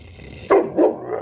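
A guard dog gives two short, close barks in quick succession during a daytime visit by a muddy creek, followed by a fainter third sound, with no talk over them.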